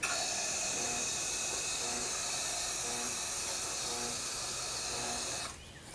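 Electrostatic powder coating gun sprays a steel 4th axis housing, a loud steady airy hiss held for several seconds before cutting off abruptly near the end.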